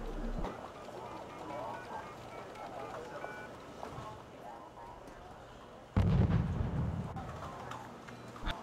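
Battlefield gunfire and a heavy explosive burst in the real-time strategy game Wargame: European Escalation as a unit is fired on by several tanks and Panzer Grenadiers, with a voice talking over low rumbling action before one loud, booming impact.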